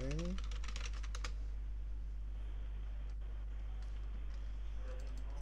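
Typing on a computer keyboard, with a short burst of clicky keystrokes near the start and then faint, sparse taps over a steady low hum for the rest.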